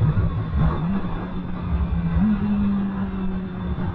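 A 2010 BMW S1000RR motorcycle on a race track, heard onboard: a loud, continuous engine buzz rises and falls in pitch with the throttle, under heavy wind rush.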